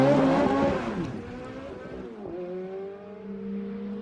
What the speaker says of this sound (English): Push this button, and a bunch of sophisticated electronics gives you a red-hot start.